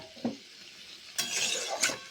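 A spatula scrapes through a spiced curry in a kadai, giving three short stirring scrapes with soft metallic contact and a faint sizzle between them.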